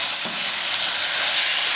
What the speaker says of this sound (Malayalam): ഇനി ഇതെല്ലാം കൂടെ നന്നായിട്ട് മിക്സ് ചെയ്തിട്ട് നന്നായിട്ട് വഴറ്റിയെടുക്കണം